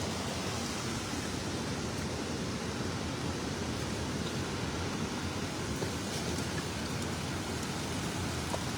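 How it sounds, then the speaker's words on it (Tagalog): Strong floodwater rushes in a steady, broadband roar, even and unbroken throughout, with no voices over it. "Yan baha oh. Napakalakas."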